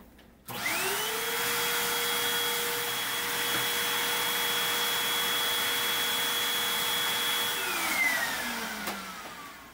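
An ultrasonic cleaner used to degrease model ship parts switches on abruptly and runs with a steady, loud whine and hiss, holding level for several seconds before its tone drops and fades near the end.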